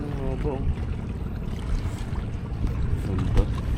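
A boat on open water at Baseco Jetty, Manila Bay, with wind buffeting the microphone and a steady rumble throughout, plus scattered faint voices.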